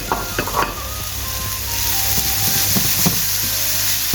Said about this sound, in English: now these are starting to sweat down, I will add my garlic